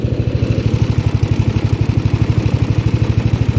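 A Yard Machine Gold lawn mower engine runs steadily on its own, a close, even, rapid chugging putter with no voices.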